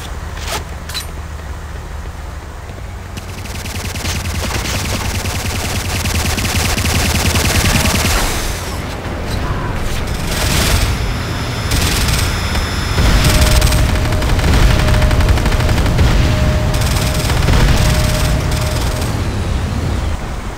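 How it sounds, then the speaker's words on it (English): Auto rifle fire in C&C Renegade, sustained loud rapid shooting mixed with booms and game noise over about twenty seconds, steady and close, with no talk. "Auto rifle acquired."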